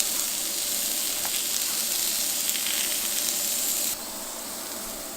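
Halloumi sizzles on a hot griddle with a steady, close frying hiss, loud and unbroken, that drops slightly in level near the end.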